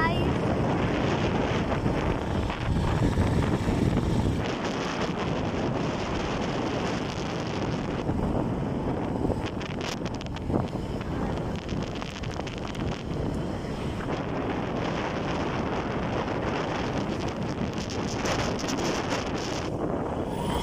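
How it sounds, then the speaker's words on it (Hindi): Cool wind blows outdoors, a continuous rushing roar buffeting the microphone for the whole stretch, with brief lulls and gusts but no break. "ठंडी ठंडी हवा चल रही है"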